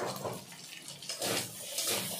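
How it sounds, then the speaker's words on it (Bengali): Water splashes and runs while a wok is rinsed, an uneven wet sloshing with bursts of stronger flow, close and moderately loud. "চিকেনটা ভেজে নেওয়ার পর কড়াইটা ধুয়ে আবার বসিয়ে দিয়েছি"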